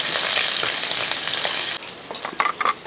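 Green chillies and spices stir-frying in a pan for a Kerala-style soya chunk fry, a loud dense sizzle that suddenly drops to quieter crackling with a few sharp pops and stirring scrapes.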